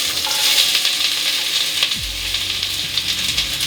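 Onion frying in a pan with a steady, loud hiss and crackle, then a low thump as more food lands in the pan partway through. No one talks.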